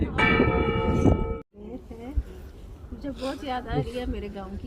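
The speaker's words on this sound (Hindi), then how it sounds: "लेकिन घंटा घर बज रहा है। आप घंटी की आवाज़ सुन सकते हो।" A clock tower bell at Pena Palace in Portugal rings out with bright, lingering tones for about a second and a half. It then gives way to people talking nearby.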